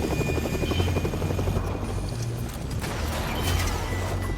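Helicopter in the Fortnite video game whirs with a steady, loud rotor chop and mechanical rattle throughout, alone without voices.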